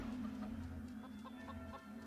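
Chickens cluck in a Family Guy video game, with short repeated clucks over a steady low game hum and background music, fairly faint and continuous throughout.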